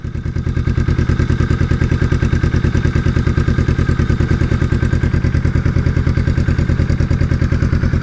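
A Kawasaki Vulcan S motorcycle fitted with a Musarri aftermarket exhaust idling steadily, its close, loud exhaust putting out an even, rapid, thumping pulse with no talk over it.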